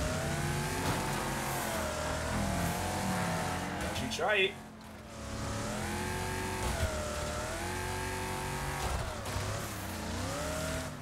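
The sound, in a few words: car engine and crash in Wreckfest video game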